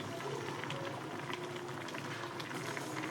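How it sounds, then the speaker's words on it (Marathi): Rice cooking in a pot on a gas stove makes a steady, close bubbling and simmering, with soft liquid pops and crackles running continuously at a moderate level without any talk. "हे काय, इथं भात होतोय."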